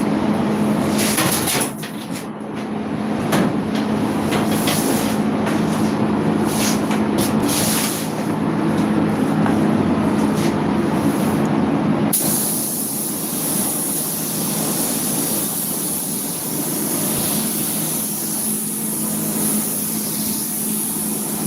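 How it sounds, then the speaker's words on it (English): Spray gun applying lacquer primer to a yellow Dodge Ram truck, a steady broadband hiss running continuously with a faint motor hum underneath, shifting in tone partway through. "He's lacquer priming the yellow Nissan 2029 Ram here."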